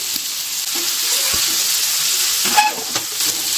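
A pan of food frying with chili powder and a pinch of salt, a loud, steady hiss of sizzling oil with a few soft stirring scrapes.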